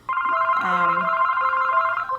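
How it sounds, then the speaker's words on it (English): A telephone rings loudly and alone, one long electronic tonal trill that holds for about two seconds before cutting off. "the phone is ringing"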